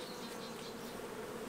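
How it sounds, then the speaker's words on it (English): Honey bees fly around an open hive during a summer split, a steady close buzzing drone that fills the whole moment without any voices. "I see a couple bees flying around"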